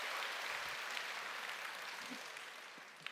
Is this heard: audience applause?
yes